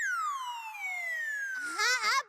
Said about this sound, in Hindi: टप्पू की पापा, लेकिन पहले आप ये एम्बुलेंस को जरा जाने देंगे